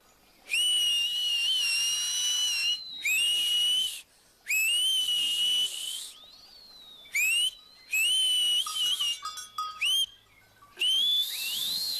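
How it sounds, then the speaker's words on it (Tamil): A person whistles loudly outdoors in the Alps in an animated scene, giving a series of shrill, sustained blasts with gliding pitch, separated by short pauses. "என்னால சவுண்டா விசில் அடிக்க முடியும்."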